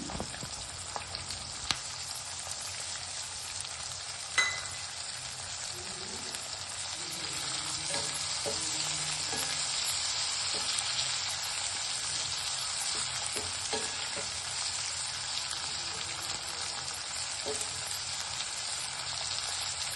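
Thick-cut capsicum frying for restaurant-style chilli chicken, with a steady hissing sizzle throughout and occasional soft clicks and scrapes of stirring, close and moderately loud.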